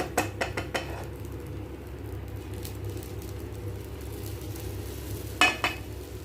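Hot tempering stirred into erissery in a pan: a few quick metallic clinks of a spoon on the pan, a low sizzle throughout, and a sharp scrape and clatter near the end.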